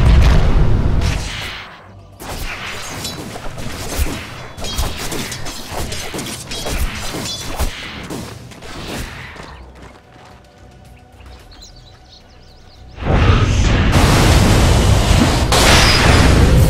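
Dota 2 match with a tower under attack: repeated loud impacts, booms and clanking mechanical hits crowd together, ease into a quieter stretch with scattered ticks, then a dense burst of crashes and explosions returns.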